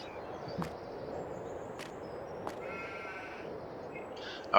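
Sheep bleat now and then in the Farming Simulator 22 video game, a few short calls spread across a quiet farm ambience, faint to moderate, with no talk.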